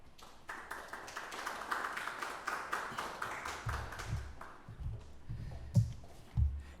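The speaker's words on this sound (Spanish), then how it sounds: "Un aplauso, por favor." An audience at a panel discussion breaks into applause, a dense wash of clapping that swells for several seconds and then thins into scattered claps and a few dull thumps.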